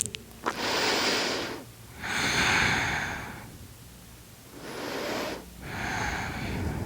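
During a yoga session, one person breathes slowly and deeply. Three long, airy breaths come close and clear, each rising and fading with short quiet gaps between them, and there is no speech.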